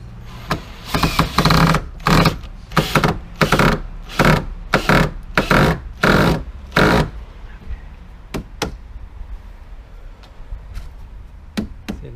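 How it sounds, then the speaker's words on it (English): Screws being driven into very hard wood during workshop rot and termite repair, a series of rough, grinding power-driver bursts in a broken rhythm, followed by a few sharp isolated clicks. "Now we're screwing into really hard wood."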